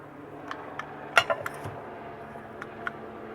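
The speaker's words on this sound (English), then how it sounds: "In here, you'll have all your pots and pans that you'll need." Induction pots and pans are handled, giving a few light, scattered metallic clinks and knocks. One sharper clatter stands out in the middle against a quiet background.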